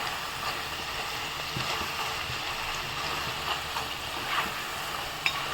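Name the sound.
kucho nimki frying in hot oil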